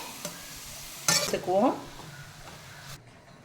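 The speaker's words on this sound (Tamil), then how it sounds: "இன்னும் கொஞ்சம் கீ போட்டு நல்லா அதை நாம் வதக்கி எடுத்துக்குவோம்." Carrots sizzle as they sauté in ghee in a pan while a spoon stirs and scrapes through them in a few quick strokes, then the sound cuts off.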